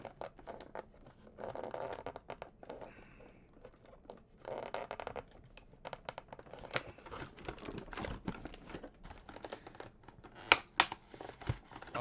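Cardboard and plastic packaging is torn and crinkled as it is pulled from a Power Rangers Lightning Collection Dragon Dagger box: close, quiet rustling with sharp irregular rips, scrapes and crackles.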